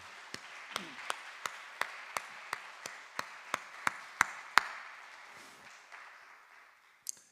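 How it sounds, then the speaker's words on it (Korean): A church congregation at a Friday service claps in slow, even unison, about a dozen sharp beats in steady rhythm over a low room hum, then fading out, with one last stray clap. "우리 다시 한번 따뜻한 박수 보내겠습니다"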